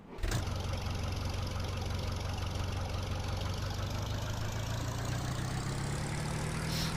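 A small tractor engine idles steadily in Farming Simulator 2013, a loud, continuous low drone with a slowly rising pitch near the end and no talking.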